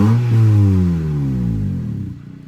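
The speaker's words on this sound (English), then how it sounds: "here's a little update on what the exhaust sounds like now" A 2005 Acura RSX exhaust, with its exhaust gasket repaired, revs once and loudly, then falls smoothly back down with no popping as the revs drop.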